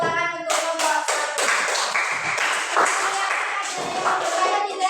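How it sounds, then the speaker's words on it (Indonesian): Clapping breaks out in a classroom for a student presentation group, a scattered burst of hands from a small audience, close and fairly loud, continuing for several seconds. "beri tepuk tangan untuk kelompok"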